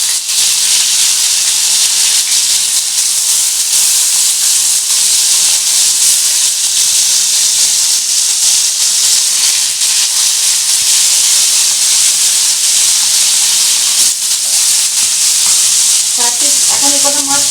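Bhetki fish pieces fry in a hot frying pan, raising a loud, continuous hissing sizzle that stays close and even throughout, with a few faint clinks near the end.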